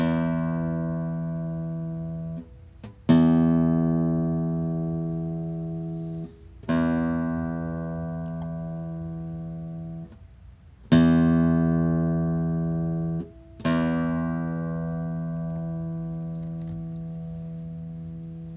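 Low sixth string of a guitar fingerpicked with free strokes, four separate boomy, thuddy plucks, each ringing out with a long decay before the next one, played alone and close.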